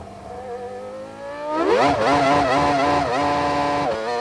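A 1999 McLaren Formula 1 car driven by Mika Hakkinen on the final lap of the Spanish race screams closer, its high engine note climbing and wavering through gear changes as it passes loudly.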